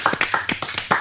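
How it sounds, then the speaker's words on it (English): Two separate hand claps, crisp and close, standing out over a podcast conversation in the background. "2 claps? 2 claps."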